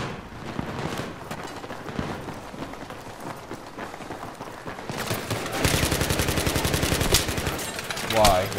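Gunfire in Battlefield 3 during a Gun Master match on Operation 925, dense rapid bursts that grow louder and more sustained toward the end, with a player's voice at times.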